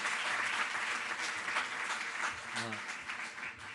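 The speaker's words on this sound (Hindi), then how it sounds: "एक बार जोरदार तालियों से आप इनका" An audience at a government sports event in Delhi gives a strong, continuous round of applause for an invited Olympian, with some speech underneath.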